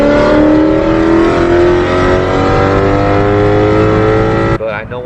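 A 2016 Ford Mustang GT engine revs hard and accelerates, loud and close, with a sustained rising roar that cuts off abruptly near the end.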